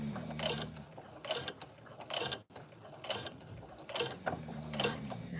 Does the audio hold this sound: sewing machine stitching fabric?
yes